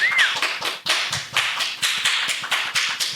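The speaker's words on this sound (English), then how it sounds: "let's get a round of applause." Quick rhythmic clapping from a small group, sharp claps repeating steadily for a few seconds, close and loud with no talking.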